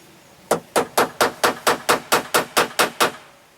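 A ball-peen hammer drives a Phillips bit into the door lock of an 80-series Land Cruiser, giving about a dozen sharp metallic taps in a steady, even rhythm, close and loud, with no talk.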